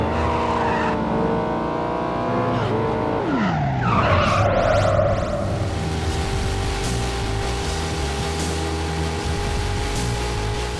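Car racing in the Midnight Club video game, set in cities modeled on Los Angeles, Paris and Tokyo: a steady engine drone with shifting revs, a sharp tire skid and squeal midway, then continued engine roar with no talk.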